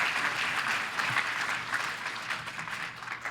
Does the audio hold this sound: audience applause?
yes